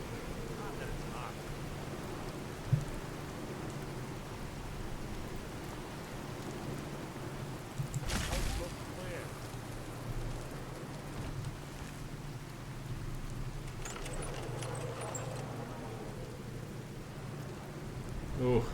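A rain storm in Fallout 4 keeps up a constant hiss of rainfall, with a heavier crash of thunder about midway and a softer swell near the end.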